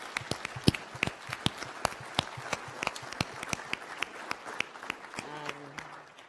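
Audience applause at a presidential forum in Altoona, Iowa, with sharp individual claps from a modest crowd ringing out at an uneven pace; a voice starts briefly near the end.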